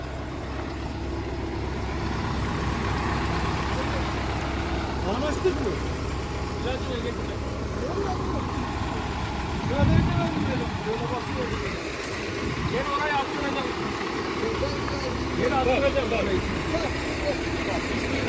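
A New Holland TD85D tractor engine runs steadily at a constant rumble through the whole stretch, with a brief louder surge midway, while a person talks over it.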